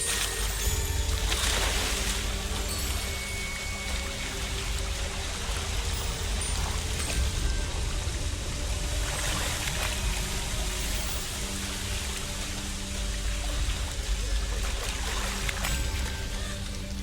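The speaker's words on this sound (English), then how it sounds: "The waterfall." Waterfall in the Hogwarts Legacy video game, a steady broadband rush of flowing water, moderately quiet and continuous with no talking.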